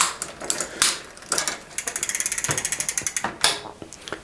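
Shimano derailleur on a Schwinn bicycle moving the chain across the rear cogs: close, steady mechanical ticking and ratcheting, a fast even run of clicks in the middle and clunks as the gears shift, no talk.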